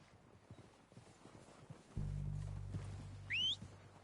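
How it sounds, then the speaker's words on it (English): Horses' hooves clop softly and unevenly in the video game Red Dead Redemption 2. A low steady hum then sets in, and a brief rising whistle sounds near the end. "They're coming down with the horses."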